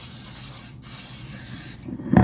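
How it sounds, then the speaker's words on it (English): Short hissing bursts of an aerosol butter cooking spray onto a pie pan, close and loud, ending with a light clunk. "We're going to use my butter cooking spray"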